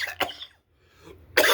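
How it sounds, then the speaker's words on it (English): Coughing in a cough medicine commercial, two short, harsh coughs close together, a pause, then a third sharp cough, close and alone. "Do you have problems with a cough?"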